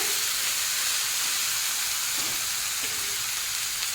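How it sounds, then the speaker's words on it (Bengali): Chana dal, split chickpeas, frying in a pan, a loud continuous close hiss and sizzle with a few faint stirring knocks, steady throughout with no talking. "তবে ছোলার ডালটা ভাজতে একটু সময় লাগবে।"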